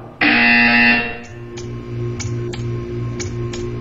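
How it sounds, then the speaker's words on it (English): Loud electronic buzzer in the video game Portal 2 sounds once for about a second, then fades into a low ambient hum with a few faint ticks. "You will hear a buzzer."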